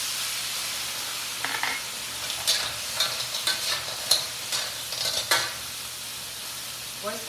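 Manila clams stir-fried with chili pepper, black bean and rice wine in a hot wok hiss under a soft sizzle, broken by a series of sharp clattering stirs and shell scrapes in the middle.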